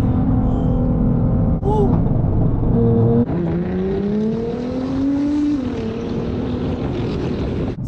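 Nissan GT-R accelerating hard on an airport tarmac, its engine droning loud and close and rising in pitch with a brief dip at a gear change, while a voice briefly exclaims.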